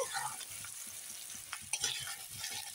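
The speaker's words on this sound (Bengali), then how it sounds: "পেঁয়াজ কুচি এখন ভেজে নেব" Chopped onion fries in hot oil for a chicken curry, giving a steady, close sizzle with occasional stirring scrapes and no talking.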